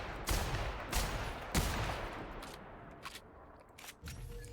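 Gunfire from the video game The Outer Worlds: several sharp, loud shots in uneven succession, each followed by a short decaying tail, with fainter impacts trailing off toward the end.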